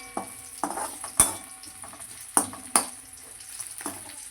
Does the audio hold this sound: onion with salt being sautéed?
yes